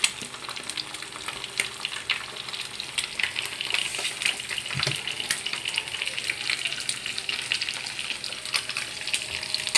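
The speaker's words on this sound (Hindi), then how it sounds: "तेल अच्छे से गर्म हो जाए, फिर आप इसमें अंडे डालें।" Eggs fry in hot oil in a pan for fried rice, a steady bright sizzle with stirring scrapes and small crackles, close and continuous with no voices.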